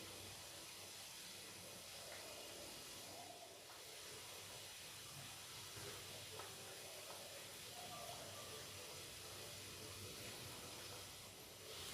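Strawberry rosogolla sweets simmer in a pot of boiling sugar syrup, giving a steady, even hiss and soft bubbling that runs unbroken and without talk.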